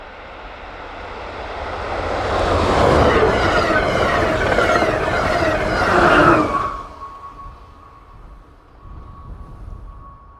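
An Amtrak Keystone train led by a former Budd Metroliner cab car built in the late 1960s rushes past in winter, a loud rising roar with wheel clatter that cuts off abruptly, leaving a fading hum.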